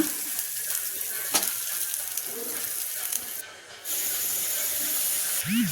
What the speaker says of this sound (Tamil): பூண்டு வந்து ஒரு 6 பல் போட்டுங்க. அதிலே பட்டை மிளகா 4, பச்சை மிளகா 2 போட்டுங்க. வெங்காயத்தையும் போட்டுங்க. போட்டு நல்லா வதக்கி விடுங்க.